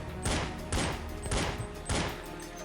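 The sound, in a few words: pistol gunfire in the video game Counter-Strike 1.6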